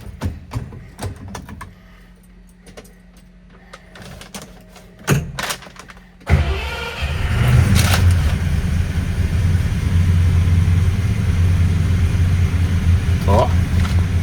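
A rare Simca Alvorada V8 starts up with a thump after some clicks and handling noise, then settles into a loud, deep rumbling idle with throaty revs, heard close up.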